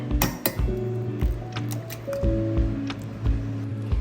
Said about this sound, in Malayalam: ഒരു മുട്ട ഇട്ടിട്ടുണ്ട്, നമുക്ക് ഒരു മുട്ടയും കൂടി ഇടാം.